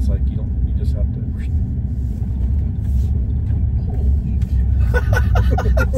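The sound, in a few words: Tesla Cybertruck making a tight U-turn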